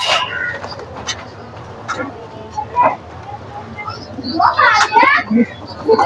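Pigeons coo and call at a busy outdoor pigeon market in Gollamari, Khulna, with bird sounds rising near the end over steady crowd chatter and voices talking throughout.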